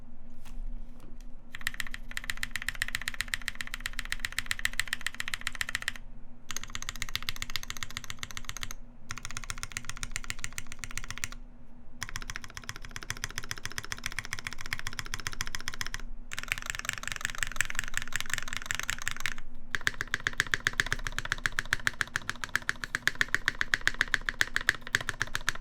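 A rebuilt Keycult No.1 mechanical keyboard is typed on steadily and close up, with dense, even key clacks. Deeper spacebar thocks fall among them, and a constant low hum runs underneath.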